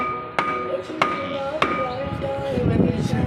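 Three sharp, loud hammer blows land about half a second apart as a rear wheel seal is driven into a Kubota L5018SP tractor, with a faint voice talking between the strikes.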